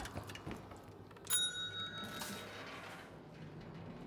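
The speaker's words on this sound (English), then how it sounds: "Please ring the bell for service." A service bell on a bar counter in the Call of Duty Black Ops 6 Zombies game, struck once with a bright ring that sustains and fades over a couple of seconds above a low ambient game background.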